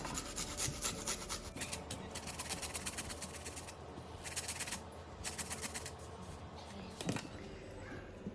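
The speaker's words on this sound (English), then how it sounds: "I'm just going to grate this in, and some chili." Garlic and chili are grated in quick scratchy bursts close up, quiet and rapid, with short pauses between runs.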